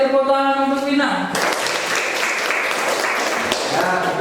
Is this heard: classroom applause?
yes